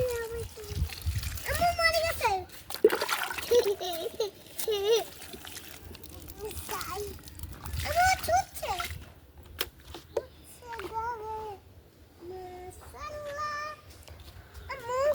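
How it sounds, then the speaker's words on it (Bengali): Strawberry plants in a rooftop garden are watered, with soft trickling and splashing beneath frequent talk from an adult and a small child. "আমরা এখন গাছে পানি দিব।"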